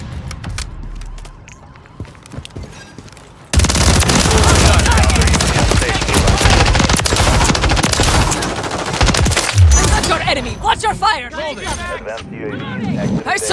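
Dense automatic gunfire roars in a Call of Duty: Modern Warfare III multiplayer match, loud and sustained for several seconds after a quieter start, with voices calling out over the shooting.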